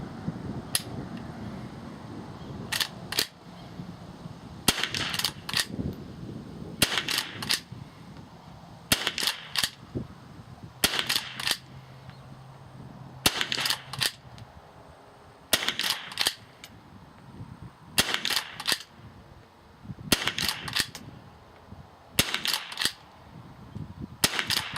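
A rimfire rifle and revolver firing old ammunition, with some rounds misfiring: about a dozen sharp, loud shots spaced a second or two apart, with quieter clicks and handling noise between them.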